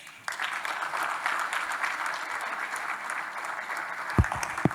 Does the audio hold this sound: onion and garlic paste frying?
no